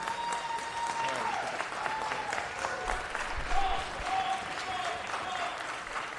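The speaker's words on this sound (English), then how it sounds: "So let's give them all a big round of applause." Audience applause fills a city council meeting chamber, steady clapping from a seated crowd sustained throughout at moderate level, with faint voices underneath.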